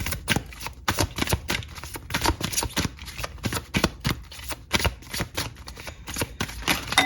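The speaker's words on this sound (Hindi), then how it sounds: "इतने कार्ड्स तो हम नहीं लेंगे, फिर से ही शफल कर लूंगी मैं एक बार।" Tarot cards are shuffled over and over in quick, crisp riffling bursts, a close and steady flutter of card edges with no voices.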